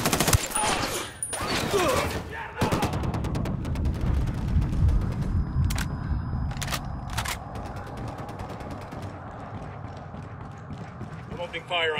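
Bursts of gunfire in the Ghost Recon Wildlands video game, with sharp repeated shots and rapid volleys standing out over a busy game mix that includes hoofbeats and voices talking.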